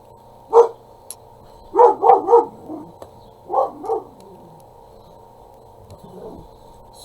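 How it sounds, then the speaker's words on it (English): A puppy barks out in a backyard, with a single yap followed by a quick burst of three barks and then two more, moderately close and unaccompanied by speech. "Sorry about that. That's my puppy."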